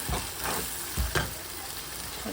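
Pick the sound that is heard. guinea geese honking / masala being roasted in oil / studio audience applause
masala being roasted in oil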